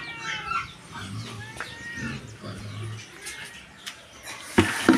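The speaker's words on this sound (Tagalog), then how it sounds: "Yan po, mga manok." Chickens cluck faintly on an overcast farm with pigs, the soft calls scattered among rustling and grunts, with a louder knock near the end.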